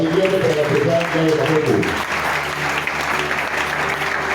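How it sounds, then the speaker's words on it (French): Church congregation applauding, a loud dense wash of clapping filling the space, with voices mixed in and an organ or singing tone at the start that fades as the clapping continues. "J'aimerais que vous puissiez vraiment acclamer le Seigneur."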